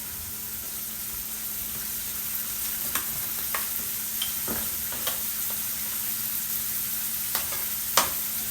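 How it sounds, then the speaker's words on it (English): Continuous frying sizzle of beef fat in a pan with occasional sharp pops and clinks, close by, as heavy cream is poured in and stirred for gravy. "now we are going to go ahead and add in some heavy cream."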